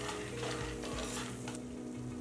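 Cumin seeds and four garlic cloves roasting in a hot pan for peanut chutney powder, giving a close, continuous sizzle with spoon scrapes and light clinks of metal on the pan.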